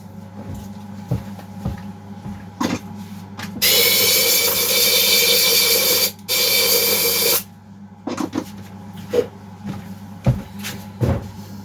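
Compressed-air blast aimed at a part of a Kitprom 2500 chainsaw, a loud steady hiss lasting several seconds with a brief break, framed by quieter clanks and handling knocks.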